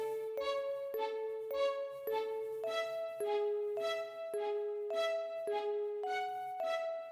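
Bell part doubled by a violin in a song, a quiet melodic line of evenly spaced chiming notes with bright ringing overtones, stepping through a simple repeating figure.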